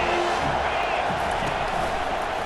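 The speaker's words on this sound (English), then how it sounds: "This crowd knows when to bring it." Stadium crowd in EA Sports College Football 25 roaring in a steady, dense wash of cheers that holds at full strength throughout, with a commentator's voice running over it.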